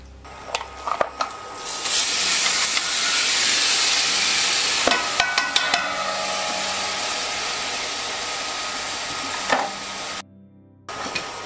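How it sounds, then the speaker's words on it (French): Chopped onions sweat in a generous pour of olive oil for a tomato pizza sauce, a loud, continuous close hiss broken by a few clinks of stirring, stopping briefly near the end. "les oignons, on va les faire suer sans coloration"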